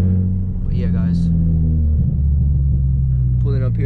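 Engine-swapped Nissan 350Z rumbling steadily up close as it drives and pulls up in cold 30-degree weather, a loud continuous low drone throughout with brief voice sounds over it.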